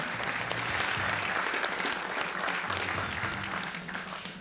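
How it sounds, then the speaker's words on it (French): Audience applause fills the hall as contestants are called onto the stage at a televised Quebec science quiz competition between two cégeps, a dense, steady clapping crowd lasting throughout and tapering slightly at the end. "On les applaudit."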